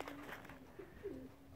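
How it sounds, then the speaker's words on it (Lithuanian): Racing pigeons coo softly inside their aviary, a few low, quiet calls repeating over faint background hiss. "Ir balandžiai išėjo į valjerą, mato, jaučia."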